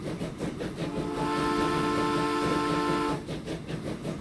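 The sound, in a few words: train departing in the video game Transport Fever 2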